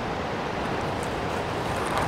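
A steady, broad roar of rushing water from waterfalls at Fer à Cheval, Sixt, constant and fairly loud, like falling water close at hand.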